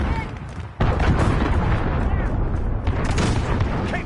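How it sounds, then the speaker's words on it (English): Cruise missile strike in the Modern Warfare video game, a heavy booming blast that swells into a dense sustained roar of explosions and gunfire, with game voices heard faintly under the din. "Allied cruise missile away."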